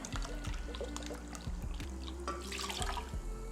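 A cup of water poured out in a kitchen, a steady liquid splash and trickle running for a few seconds alongside a low rhythmic hum, with no voices.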